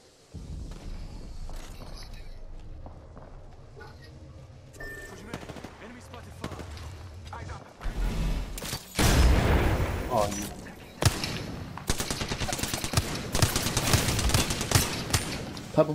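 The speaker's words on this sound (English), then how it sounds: "Oh, mate, I'm getting shot at." Bursts of automatic gunfire and heavy shots in the Apex Legends battle royale game, building to loud, dense rapid fire in the second half, with players talking over headsets throughout.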